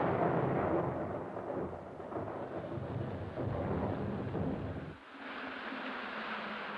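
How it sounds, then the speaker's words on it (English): Thunderstorm in the film The Seventh Seal: deep rolling thunder with rain hiss, loud at first, then dropping abruptly to a thinner wash of rain and distant rumble. "And as the storm rages,"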